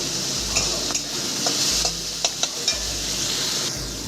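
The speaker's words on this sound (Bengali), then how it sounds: "পটলটা আমি লাল লাল করে ভেজে নেব" Sliced pointed gourd (potol) fries in oil in a kadai, a steady close sizzle broken by several sharp clinks and scrapes of a spatula stirring the pieces, with no voices.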